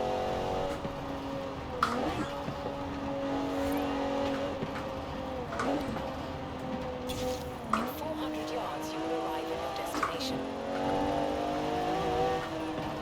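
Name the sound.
Rossion Q1 car engine in video game Forza Horizon 4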